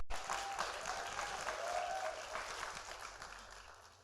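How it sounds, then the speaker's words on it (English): A church congregation claps and shouts in a dense, steady wave of applause that fills the whole space, with scattered voices rising through it before it slowly eases off. "Somebody clap your hands and shout."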